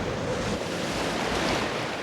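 Ocean waves surge and wash continuously while wind buffets the microphone, forming a loud, dense roar of surf and gusts at sea with no speech throughout.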